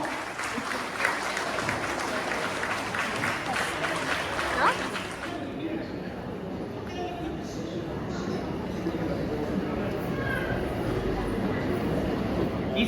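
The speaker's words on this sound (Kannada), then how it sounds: "ಸತತವಾಗಿ ನೀವು ಚಪ್ಪಾಳೆಯನ್ನು ತಟ್ತಾ ಇರಬೇಕು. ಅತಿಥಿಗಳು ವೇದಿಕೆಗೆ ತಲುಪುವವರೆಗೂ ನಿಮ್ಮ ಚಪ್ಪಾಳೆಗಳ ಅವಶ್ಯಕತೆ ನಮಗಿದೆ" An audience applauds steadily for several seconds as guests are welcomed onto the stage at a church celebration of a priest's golden jubilee. The dense clapping fills the room, then thins into a murmuring crowd.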